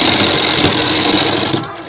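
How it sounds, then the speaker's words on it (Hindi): Up close and loud, a sewing machine stitches a men's trouser waistband near the ticket pocket, a fast continuous whirr that runs for about a second and a half before it cuts off. "इस टिकट पॉकेट पे करीब एक टाँका चढ़ाते हुए हमें सिलाई लगा देना है इस तरह से"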